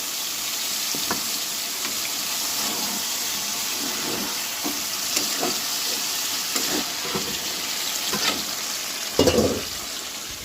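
Pieces of catla fish frying in spice masala in a pan: a continuous hiss of hot oil with intermittent stirring, building to a louder burst of clattering near the end.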